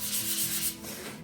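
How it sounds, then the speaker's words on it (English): Sandpaper rubs by hand along the edges of a wooden sign with the grain, making a steady, close, hissing scratch with slight rhythmic strokes and no talk. "So when I'm sanding, I'm not sanding across this area against the grain"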